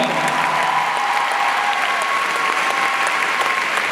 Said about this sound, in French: Vous pouvez les applaudir plus fort, mesdames et messieurs,